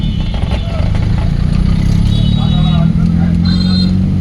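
A car pulls away gently in first gear during a driving lesson, its engine a steady, close, low drone that rises slightly while voices talk over it.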